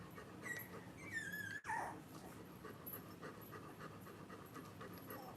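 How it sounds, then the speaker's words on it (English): Nala, a nursing mother dog lying with her puppies, pants heavily and rapidly in quick, soft breaths close by, with a brief high whimper early on and faint background noise. "Mom, you're breathing really heavy."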